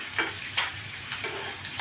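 Tempering spices fry in hot oil for buttermilk rasam, giving a steady close sizzle with a few sharp pops and stirring scrapes at irregular intervals.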